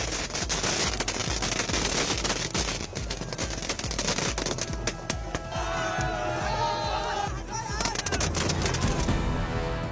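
Rapid crackling bursts and sharp pops of fireworks go off in dense volleys at a Bihar election results celebration, with a noisy crowd and voices underneath.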